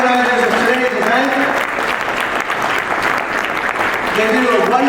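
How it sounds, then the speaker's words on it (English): Audience applause at an annual physicians' society gala, a dense, steady clapping from a large crowd lasting the whole stretch, with a speaker's voice faintly under it at the start and end. "can you give a big round of applause to Tariq and all the organizers"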